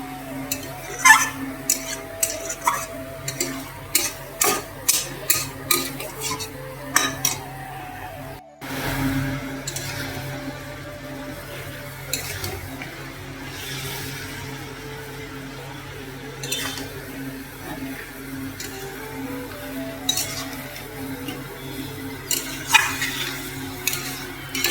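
Chicken and potatoes being stirred in a pan over steady sizzling, with repeated clanking and scraping strokes of a utensil against the pan, loud and close, sometimes in quick runs.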